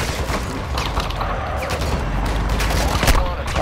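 Bots unload steady gunfire in a shooter video game, a dense continuous rattle of shots with booming impacts, while players talk over the top throughout.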